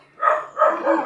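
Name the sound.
dogs barking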